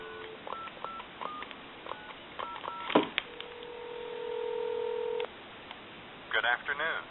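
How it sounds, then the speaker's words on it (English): A series of telephone DTMF keypad tones beeps in quick succession while dialing a time and temperature number, followed by a long steady tone and a brief burst of warbling signal tones. "Give you some dial tone. We'll call like a time and temp number."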